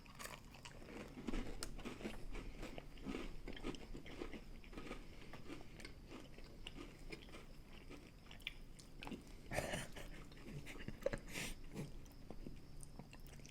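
Close, quiet biting and chewing of a Tate's Bake Shop cookie with raisins: soft repeated crunches and wet chewing in an irregular rhythm, with no talking.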